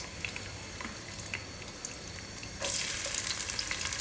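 Onions frying in about a cup of oil for goat liver curry give a steady close sizzle that swells suddenly louder and brighter partway through, with no talking.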